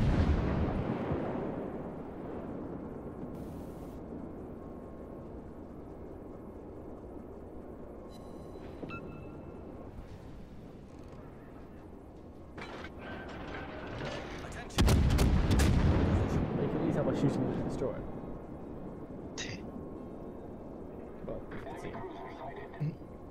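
Heavy naval gunfire from warships in the World of Warships game, with loud booming salvos, a big blast near the middle and scattered shots later, all over a constant low battle rumble.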